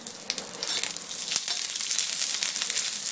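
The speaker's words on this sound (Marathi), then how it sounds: "त्यामुळे खोबरं आलं आणि लसूणही चांगला भाजला जाईल" Grated coconut, ginger and garlic roasting in a little oil for a village-style masala brinjal dish, giving a steady bright sizzle and crackle with no talk.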